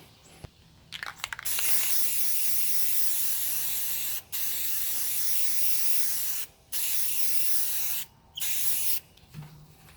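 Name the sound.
spray paint can spraying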